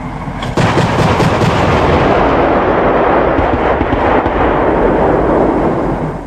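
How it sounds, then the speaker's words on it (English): A CV9040 infantry fighting vehicle's Bofors 40mm L70 cannon fires programmed 3P airburst rounds, producing a sustained, loud, thundering roar of overlapping blasts and rumble that continues for several seconds without a break. "The 3P rounds are programmed for time function with controlled dispersion. That way, the bursts will be staggered, covering the complete target area."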